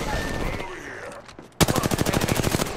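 Video game gunfire from a squad shooter: after a short stretch of muffled noise and chatter, a rapid burst of automatic shots hammers out in an even, loud, close rhythm to the end.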